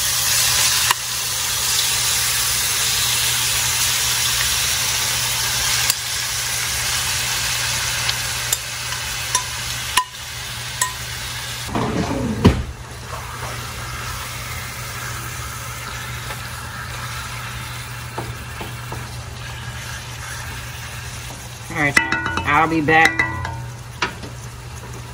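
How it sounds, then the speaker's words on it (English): Chicken for butter chicken sizzles and fries in a pan, a steady hiss broken by bursts of stirring and spattering near the middle and end, with a brief spoken remark. "you're just gonna pour your chicken in here"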